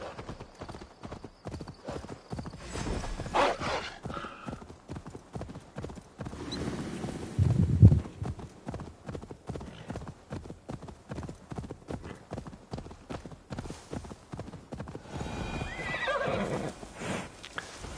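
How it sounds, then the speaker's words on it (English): Rapid hoofbeats clip-clop steadily as a horse gallops in Assassin's Creed Valhalla, with a loud whinny rising midway amid game background noise. "Drive by on a horse."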